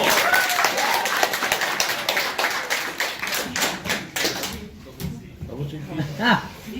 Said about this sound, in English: after a warm round of applause, this is Advice Panel